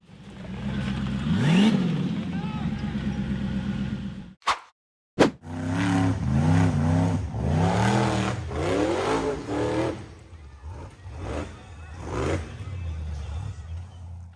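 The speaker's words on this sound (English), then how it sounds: "The buggy's engine roared as it powered hard up the steep, rocky dirt slope." An off-road buggy engine roars and revs hard while climbing a steep, rocky dirt slope on a 4x4 hill climb, loud and close. The roar breaks off briefly with a sharp cut, then surges back in rising, strained bursts before easing.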